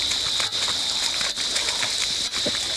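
An artificial rain effect on a film set gives off a steady, dense hiss of falling spray and splashing water, broken by three brief dips where the flow falters.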